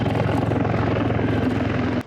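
Chinese Z-20 military helicopter in flight, a loud, steady rotor and engine drone with a rhythmic blade chop, heard close and alone throughout.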